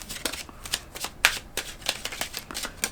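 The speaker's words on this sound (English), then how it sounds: "as I stop shuffling" Tarot cards are riffled and shuffled in quick, papery bursts, close and fairly soft, with a brisk uneven rhythm.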